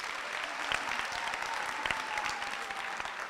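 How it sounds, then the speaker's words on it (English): A large audience at a university spring graduation ceremony gives a sustained round of applause for the graduates' parents. The clapping is steady and even, heard from within the hall, with a few louder claps standing out. "I think they deserve a big round of applause."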